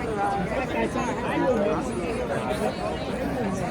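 A crowd chatters on a New York City street outside a Madison Square Garden Trump rally, a steady close babble of many voices with street noise underneath.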